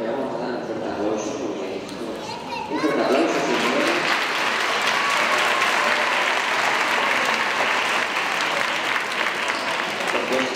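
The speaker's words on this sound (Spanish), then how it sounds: "le vamos a dar un fuerte aplauso." Loud audience applause at a children's Christmas carol contest for 4- and 5-year-olds at San Agustín school, starting moderate and swelling into sustained, dense clapping from a large crowd, with some voices mixed in.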